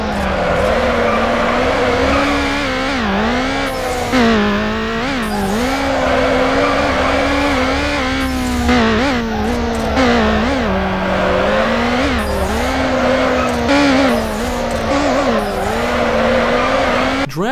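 Cars drifting in Need for Speed: Underground, a PC street racing game: loud continuous engine roar with sustained tire squeal and wavering pitch as the cars slide around the track, steady throughout and without talk.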